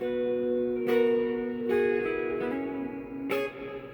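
Electric guitar chords ringing out with a lush plate reverb tail, a few strummed hits sustaining and blending into a smooth wash.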